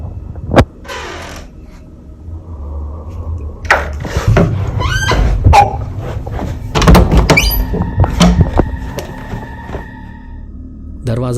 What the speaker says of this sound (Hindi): दरवाजा धीरे से अपने आप खुलता है और फिर अचानक जोर से बंद भी हो जाता है